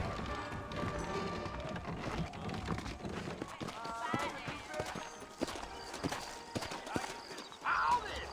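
Horse hooves clip-clop steadily in the western video game Red Dead Redemption as saddled horses move out of a frontier town, a busy rhythm of soft thuds sitting under speaking voices and other game sounds.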